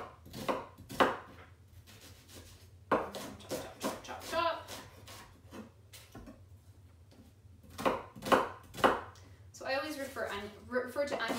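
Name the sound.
knife chopping vegetables on a cutting board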